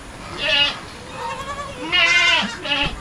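Goats bleat several times, loud and close: a long wavering cry, then two more bleats in quick succession near the end.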